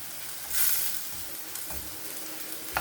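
Onions fry in hot oil in a home kitchen, giving a continuous close sizzle that swells briefly early on, then settles into a steady crackle with a few faint stirring clicks.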